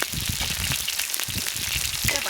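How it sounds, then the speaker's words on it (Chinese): Beef stir-frying in hot rapeseed oil in a wok, a loud steady sizzle and crackle close up, with a voice talking underneath. "咱们油温烧热了，下入这牛肉炒一下"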